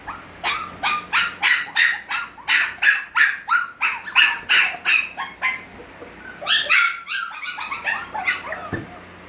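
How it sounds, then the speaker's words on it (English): Six-week-old puppies whimpering and yipping, a steady run of about twenty rhythmic high cries followed by a cluster of overlapping yelps, close and loud, with no talking. "Puppy cries everywhere."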